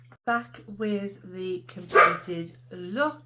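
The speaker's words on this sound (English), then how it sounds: "Sorry about the dogs." Dogs barking indoors in short, close yelps scattered through the clip while someone talks over them, with a steady low electrical hum underneath.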